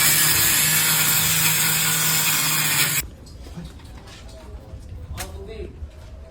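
An angle grinder bites into the metal main door of a house under renovation, a loud steady whine for about three seconds before cutting off, leaving quieter room noise and scattered knocks.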